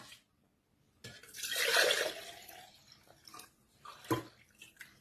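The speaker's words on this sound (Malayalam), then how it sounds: "ഇനി വെള്ളം ഒഴിച്ചു കൊടുക്കാം" Water poured into a container with juice powder for making juice: a brief close splashing pour lasting about a second, followed by faint drips and small clinks.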